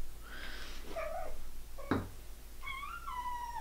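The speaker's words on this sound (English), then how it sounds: "she's meowing as soon as I stop playing with her" A blue point Ragdoll kitten meows several times, with a rising and falling call near the start, a sharp brief sound in the middle and a longer drawn-out meow at the end, close and clear in a quiet room.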